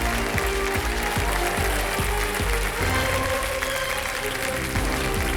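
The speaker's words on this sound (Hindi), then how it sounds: "जोरदार तालियां बज जाए इनके लिए" Studio audience applause on the KBC game show, clapping spread evenly over the whole stretch with a regular pulsing beat of show music running underneath.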